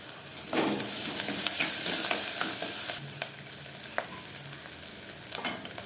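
Curry leaves and ginger garlic paste hit hot oil for a sardine curry, a loud, steady sizzle with stirring scrapes that eases into a quieter crackle.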